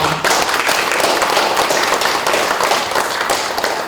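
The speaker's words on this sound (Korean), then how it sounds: "우리 향덕 박승옥 존자님께 다시 한번 큰 박수 부탁드립니다" Dense, steady applause from an audience at an Ethiopia investment business forum, loud and continuous for several seconds with no voices over it.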